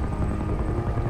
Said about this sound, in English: Oh, see a helicopter?